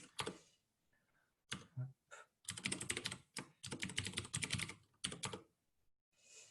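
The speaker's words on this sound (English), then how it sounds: "I will do just the typing for this first part." Typing on a computer keyboard, close and clear, in quick bursts of clicking keystrokes separated by short pauses, with no talking.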